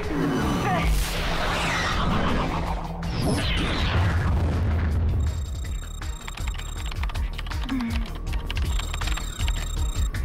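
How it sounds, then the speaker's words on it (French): A loud, deep torpedo explosion with a crash and rumble in a video game, followed by lingering mechanical clatter and faint beeping tones as the noise dies down. "Ça, c'était l'explosion d'une torpille de Navskid."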